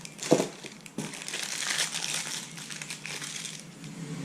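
A plastic bag crinkles and rustles up close as an axle bearing for a kart is pulled out, with a sharp crunch at the start and continuous crackling throughout.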